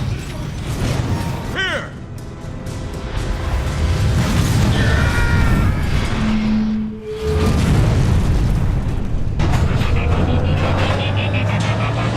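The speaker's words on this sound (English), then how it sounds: "The core's about to detonate!" A reactor core detonating in the game Transformers: War for Cybertron, heavy booming blasts and rumbling mechanical roar filling the scene loudly, with a brief lull before the roar returns; voices speak over parts of it.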